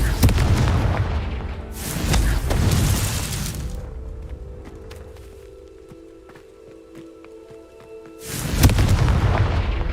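A Confringo fire spell explodes in the video game Hogwarts Legacy. Loud booming blasts burst out at the start and again near the end, with a quieter stretch of faint tonal game sounds between them.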